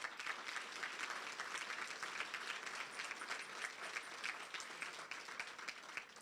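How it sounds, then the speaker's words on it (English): Audience applause at a museum anniversary celebration, a steady wash of many hands clapping together, fairly distant and even throughout with no voices standing out. "I would like a round of applause for them"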